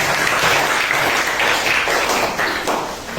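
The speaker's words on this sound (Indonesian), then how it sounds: "Tepuk tangan." A classroom group gives a short burst of brisk applause after a student presentation, the clapping dense and close, fading slightly at the end.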